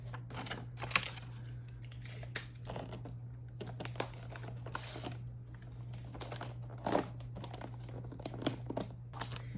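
Paper that is not birthday wrapping paper crinkles and rustles steadily while a gift is wrapped, with soft crackles and occasional sharper crumples close by and no talk.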